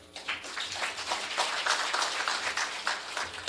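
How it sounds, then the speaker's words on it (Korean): An audience at a regional association election campaign rally applauds to welcome guests, a dense burst of clapping that rises quickly and holds steady for a few seconds. "뜨거운 박수로 환영해 주시기 바랍니다."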